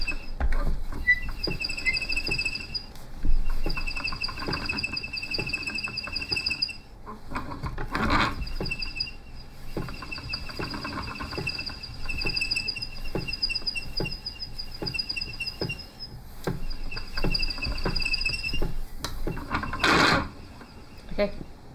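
A spinning wheel twists fibre into yarn with a steady mechanical whir and a faint high whine, marked by rhythmic clicking treadle beats. A person speaks at times over the sound.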